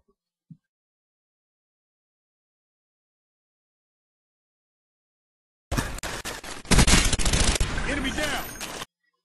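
Rapid automatic gunfire from the video game Call of Duty Black Ops bursts in loud and close after a long near-silence and keeps rattling for about three seconds; no voice over it.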